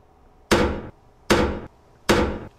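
Hammering as a doorway is repaired in the survival horror video game Darkwood: three loud, evenly spaced wooden-sounding strikes, each ringing briefly, with no talk.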